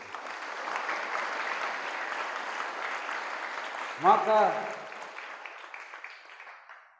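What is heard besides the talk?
audience applause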